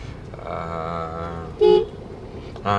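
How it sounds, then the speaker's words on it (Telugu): Car horns toot in a traffic jam near the Golden Temple, two short separate honks standing out over a low hum of street noise, with no talking. "మీకు ఇక్కడ ట్రాఫిక్ కూడా జామ్ ఉంది."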